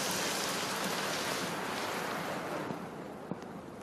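Floodwater rushes through the streets of Bodrum after heavy downpours, overflowing from hills and streams: a steady, dense roar of surging water that fades only slightly toward the end, with no voices.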